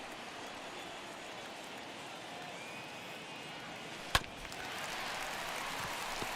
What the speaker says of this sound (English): Really starting to pour now, and the forecast is not showing any signs of a break in the weather